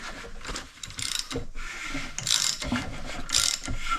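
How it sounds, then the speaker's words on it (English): The crankshaft of a 2003 Yamaha YZ450F engine is turned by hand during a top-end rebuild, giving repeated ratcheting clicks and mechanical whirring in uneven bursts, close by. "I'm going to roll it around counterclockwise a few times on the crank to make sure nothing hits"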